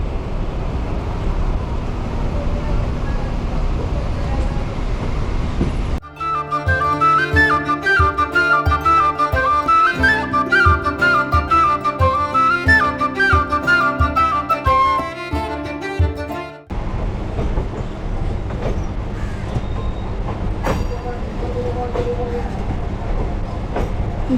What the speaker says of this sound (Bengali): রাইট টাইমে একেবারে শিয়ালদা থেকে ট্রেন আমাদের ছেড়ে দিল